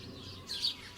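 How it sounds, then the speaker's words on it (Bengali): Birds calling at dawn in a story scene, a single faint high chirp rising briefly over a soft low background. "পাখির ডাক শোনা যাচ্ছে"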